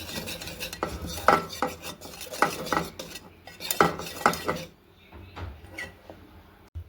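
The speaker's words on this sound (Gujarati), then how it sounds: "બરાબર હલાવીને બેટર રેડી કરવાનું છે." A spoon scrapes and clatters against a bowl while thick vada pav batter is stirred, giving repeated close, rhythmic knocks and scrapes that fade to quieter movement near the end.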